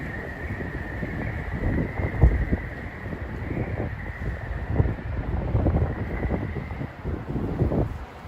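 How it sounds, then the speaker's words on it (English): Gusty wind buffets the microphone on a New York City street, a steady rushing roar with a faint whistling tone that swells and eases, with no voices over it. "whistling wind is crazy"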